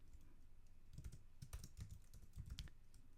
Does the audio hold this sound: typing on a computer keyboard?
yes